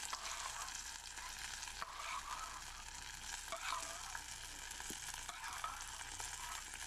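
Two kinds of dal lentils frying in a pan for pongal make a steady, faint sizzling hiss, with occasional light scrapes of stirring.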